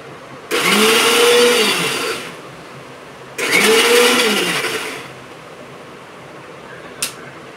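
Kitchen blender whipping boiled eggs and oil into mayonnaise, running in two loud steady whirring bursts of about two seconds each, with quiet gaps and a small click at the end.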